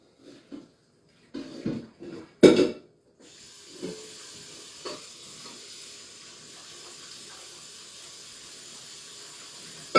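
Cold tap water runs steadily into a kitchen sink to rinse cooked potatoes for potato salad, a constant rushing hiss that follows a few brief clatters and knocks near the start.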